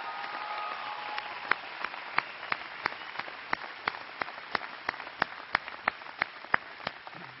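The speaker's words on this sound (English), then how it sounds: "Please give Brian Schweitzer and his lovely wife Nancy a big round of applause." Applause for Montana Governor Brian Schweitzer and his wife Nancy at a political rally, a steady wash of crowd clapping with distinct sharp claps popping out near the front, sustained throughout without speech.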